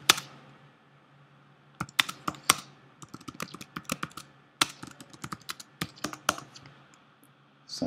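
Typing a Cypher database query on a computer keyboard: irregular bursts of sharp key clicks, close and fairly quiet, with short pauses between flurries and no talking.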